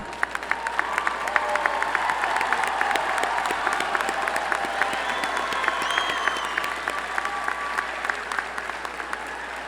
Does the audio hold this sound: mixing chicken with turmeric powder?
no